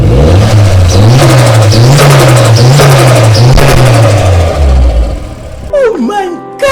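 A turbocharged 4B11 engine in a Mitsubishi Lancer revs up and down in loud, wavering surges close by, then drops away as excited voices break in.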